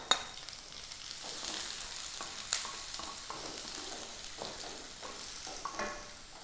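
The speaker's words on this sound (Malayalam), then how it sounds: "ഇനി അതിലോട്ട് വെളുത്തുള്ളി ഒരു 3-4 അല്ലി വെളുത്തുള്ളി എടുത്തിട്ടുണ്ട്, ചെറുതായിട്ട് അരിഞ്ഞത്. അതും അങ്ങോട്ട് കൊടുക്കാം" Finely chopped garlic frying in a pan gives a soft, steady sizzle with a few faint stirring taps, quiet and without speech.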